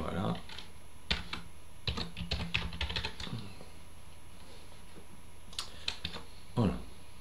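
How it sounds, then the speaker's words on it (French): Bursts of close typing on a computer keyboard, quick clusters of crisp key clicks separated by pauses, fairly quiet against a low steady background hum. "Je vais taper comme ça"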